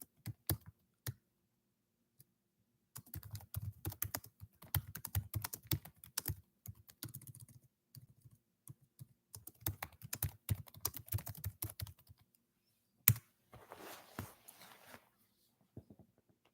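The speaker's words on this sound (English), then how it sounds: "Here, Heather, I'll type it in for you." Someone types on a computer keyboard at close range, first with a few isolated taps, then in steady bursts of quick clicking broken by short pauses, in a quiet room.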